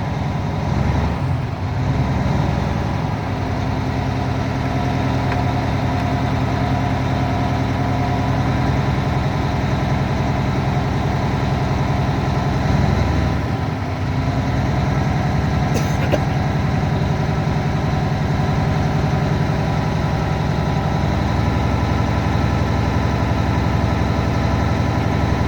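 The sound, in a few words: truck engine idling as the air brake governor kicks off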